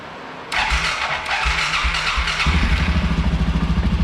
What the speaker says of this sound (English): Well, start it back up.